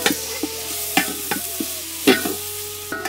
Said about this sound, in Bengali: কি পাকাইতেছি আমরা? হ্যাঁ, আমরা বিরিয়ানি পাকাইতেছি।